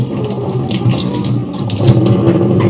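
Tap water running steadily and loudly into a sink to soak vegetables for chicken kare-kare, a continuous close splashing stream with no voices.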